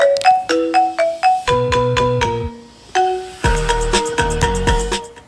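A customized ringtone plays loudly on an iPad or iPhone, a bright melodic sequence of quick electronic tones and chords that repeats in short phrases with no talking.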